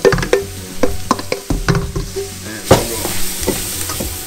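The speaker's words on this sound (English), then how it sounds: "So what we'll do is we'll go ahead and throw those veggies in." Vegetables go into hot milk-chocolate-brown roux for duck gumbo and are stirred, with a spoon scraping and knocking the pot in quick repeated strokes over a rising sizzle, and no talking.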